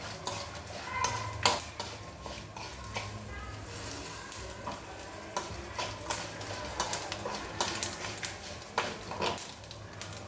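Tempering spices for an aubergine and yam dappalam crackle and sizzle in hot oil, a steady frying hiss with sharp pops scattered throughout, close and moderately loud.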